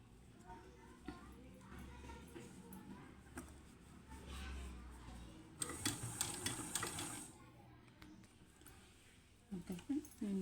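Sewing machine stitching the side seam of a square-neck blouse, a muffled mechanical whir running under low room noise, with a brief louder burst midway and a few knocks near the end.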